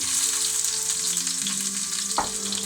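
Carrots and onion sizzle steadily in a hot pan for a Chinese chicken curry, a close, continuous frying hiss with a low steady hum beneath and a brief clatter near the end.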